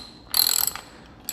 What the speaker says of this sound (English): Okay, so I'm going to start by removing the bolts.